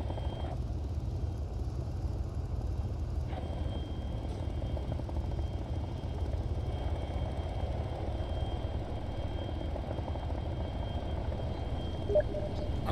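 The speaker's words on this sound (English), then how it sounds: "I'm terrified by that Chinook." A Chinook helicopter passes overhead in a video game, heard as a steady, low rotor and engine rumble that stays fairly constant and distant-sounding throughout.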